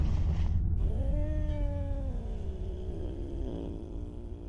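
Cat in the game Simulacrum giving a drawn-out meow that fades into low rumbling purring, close and fairly quiet.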